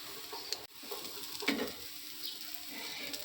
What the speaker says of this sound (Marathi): अद्रक लसूण पण भाजून घ्यायचं